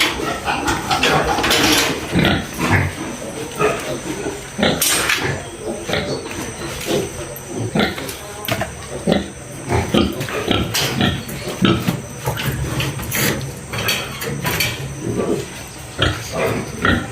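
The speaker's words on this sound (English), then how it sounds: "So I just crossed this pig, you can see it here," Pigs grunting and oinking on a pig farm in Nigeria, with repeated short grunts close by over steady farmyard background noise and occasional clatter.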